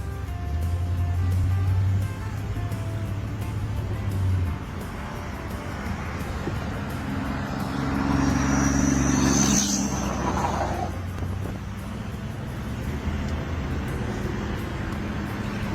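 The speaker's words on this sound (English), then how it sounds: "Runs, drives, shifts through all the gears." A classic Lincoln Continental drives along with a steady low engine rumble, swelling briefly louder near the middle before settling back; no voices.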